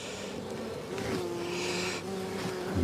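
Honey bees buzz steadily around an open beehive, a close, continuous droning hum with small swells in loudness and no voices.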